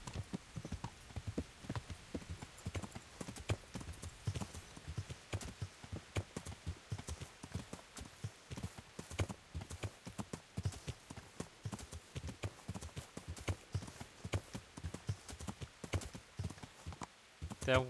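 Horse hooves clip-clop in a steady, close rhythm through the whole stretch in the medieval game Kingdom Come: Deliverance, with someone talking over the hoofbeats.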